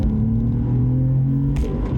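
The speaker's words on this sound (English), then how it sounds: "it sounds like a 911." Porsche 911 Aero with a flat-six engine and intake pipe mod rumbling close by with a steady, throaty note and slight rise in revs, loud and unbroken.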